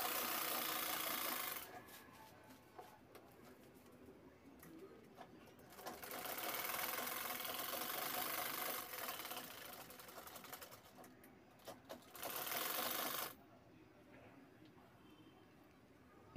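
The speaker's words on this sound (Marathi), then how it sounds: "आपल्याला साईडने शिलाई घ्यायची आहे" A sewing machine stitches the side seam of a fabric shopping bag in three steady runs of whirring, separated by short quiet pauses.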